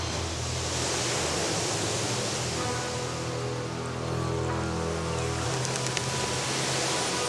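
Powerful Atlantic surf pounding the rocky Ponant islands, a continuous loud broadband roar of breaking waves with steady rumble and no voices.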